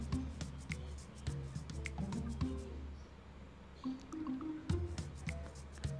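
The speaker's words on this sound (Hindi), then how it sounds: "साथ में ये सारा दूध मैं डाल दूंगी अंदर" Milk is poured into a blender jar holding mango, banana and sugar for a smoothie, with continuous close gurgling, splashing and dripping liquid throughout and no one talking.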